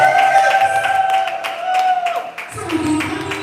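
Scattered audience clapping at a business hangout event, a few uneven claps mixed with background tones, then a voice speaking as the applause fades.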